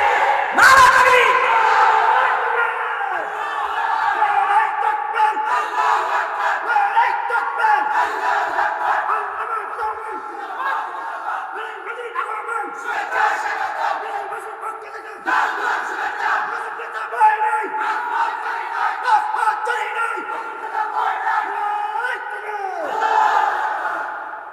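A large crowd at an Islamic sermon gathering in Sylhet chants the takbir slogan in loud repeated waves of massed voices, rising and falling together in a rhythmic call-and-response pattern for the whole stretch.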